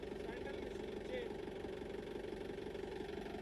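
A motorcycle engine idling steadily after a push start, a low continuous rumble with a faint rhythmic throb, moderately close, with a voice heard over it.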